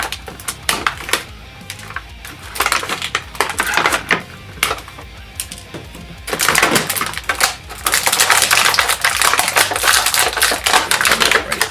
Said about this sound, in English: Let's cut these twist ties off and get them out of the plastic.